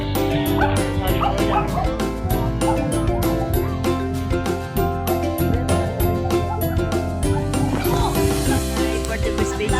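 Several dogs at a resort bark and yip continuously, overlapping sharp barks and whimpers close by, loud and busy for the whole stretch.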